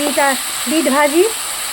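Beetroot and onions fry in a pan with a steady, close sizzling hiss throughout, while a voice talks over it.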